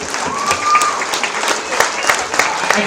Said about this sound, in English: Let's give all these individuals that we went and penned a round of applause.